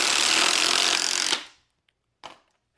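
Metabo and Sata impact drivers sink 4-inch timber lock screws into wood, a loud continuous rattling whir that cuts off abruptly, followed by one short burst of driving, with no talk.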